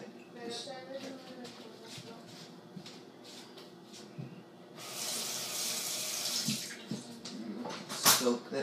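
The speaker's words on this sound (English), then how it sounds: "Soak that knife real quick." Kitchen sink tap gushing steadily into the basin to soak a knife, a loud broad rush of running water that starts suddenly after talk and continues to the end, with a clatter near the close.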